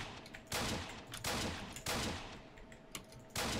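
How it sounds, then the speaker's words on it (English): Rapid bursts of gunfire in the survival game Apocalypse Rising, several loud sharp volleys at irregular intervals, close and dominant with no talk over them. "I'm shooting at him."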